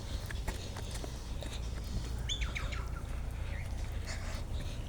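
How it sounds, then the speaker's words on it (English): Water birds call outdoors in short, chirping bursts clustered midway, over a constant low rumble and faint scuffing steps. "These water birds are going crazy."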